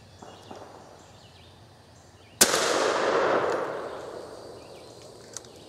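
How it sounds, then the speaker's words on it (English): A single sharp .410 shotgun blast during a squirrel hunt in the woods, loud and close, followed by a long fading echo across the trees, with faint rustling before and a small click near the end. "Okay, let's take a shot."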